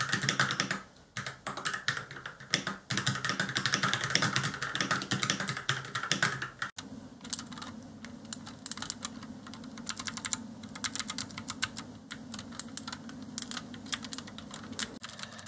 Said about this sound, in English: these ones give this like really nice clicky sound